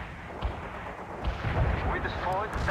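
Artillery barrages from the World in Conflict Soviet assault campaign, several dull booming thumps rolling through a busy battlefield din, with a radio-style voice talking over the noise.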